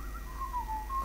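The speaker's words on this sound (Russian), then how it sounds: "Кто свистит?" Wavering whistled melody with a sliding, tuneful pitch, heard faintly over a low steady hum during a Dota 2 game stream, with no talk.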